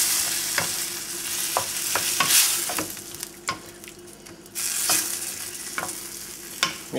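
A spoon works through shakshuka tomato sauce in a sizzling pan, giving a steady low simmering hiss broken by a few sharp scrapes and clinks of the utensil against the pan.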